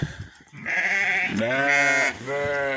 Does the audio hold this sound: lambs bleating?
yes